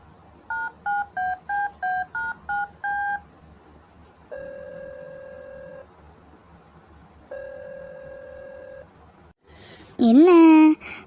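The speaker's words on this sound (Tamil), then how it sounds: "சரி ரிங் கொடுத்துட்டு உடனே கட் பண்ணிடுவோம்." A phone number is keyed in as a quick run of about eight touch-tone beeps, followed by two long ringback tones with pauses between them, then a short burst of a voice at the end.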